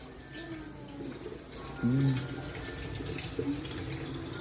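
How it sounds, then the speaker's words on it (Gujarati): Water runs from an RO purifier tap in a steady, fairly quiet hiss, with a brief faint voice-like tone partway through. "શું પાણી નહીં આવતું આમાં આરોમાં? ચાલુ કરવાનું."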